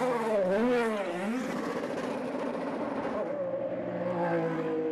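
IndyCar race cars on slick tyres restarting, engines howling and rising through gears as cars accelerate past, loud and continuous, with a commentator talking over them.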